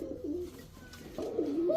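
Pigeons coo in two rounded, repeated phrases, one early and a louder one near the end, close by with no talk; a pair of Bashiraj kokka and high-flyer Giribaz pigeons.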